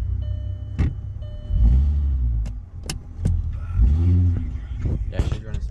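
Turbocharged Honda D16Y8 engine running in a car, a steady low rumble with swelling surges and a few sharp clicks, fairly close and loud, with brief voices in the background.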